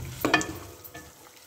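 For chicken pulao, masala sautés in a pot with a brief burst of stirring and scraping. A soft sizzle sits underneath and fades quickly.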